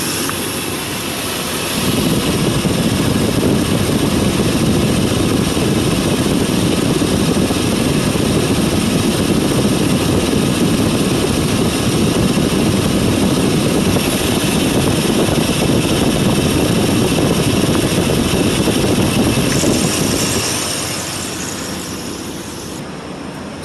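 Steady broadband whooshing drone of a car's air conditioning system running with a new compressor and BG Frigi Charge additive, loud and constant for about twenty seconds, then easing off near the end, with no talking.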